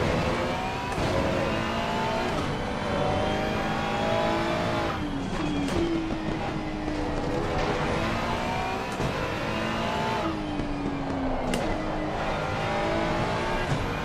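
A Ferrari race car engine in the ACC racing game at Valencia, loud and continuous, revving up through the gears with rising and falling pitch during a sprint race, plus brief tyre squeal and no talking.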